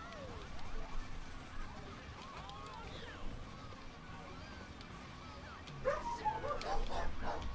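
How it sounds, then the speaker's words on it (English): Dogs bark and yip in short bursts, moderately near, with a quieter stretch before a louder cluster of barks near the end. "they are barking at literally nothing"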